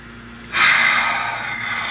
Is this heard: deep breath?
yes